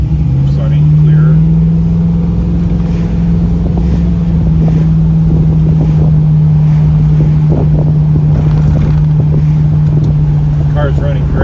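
A 1981 Trans Am with a swapped LS3 416 V8 cruises on a hot highway, heard from inside the car as a steady low engine drone under wind rush, continuous and fairly loud.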